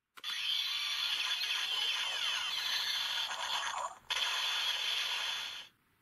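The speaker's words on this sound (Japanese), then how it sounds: "B ボタンを押すとスペシャル攻撃音が鳴ります。" A DX Gashacon Bugvisor toy from Kamen Rider Ex-Aid, in beam gun mode, plays a long electronic special-attack effect: a sustained bright synthetic whir with sweeping tones, a brief break, then a second burst that cuts off abruptly, close and alone.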